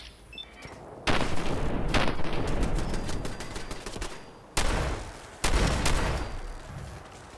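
Turret gunfire in the video game Fallout 4: dense bursts of rapid shots in long sustained volleys with short gaps, loud and close.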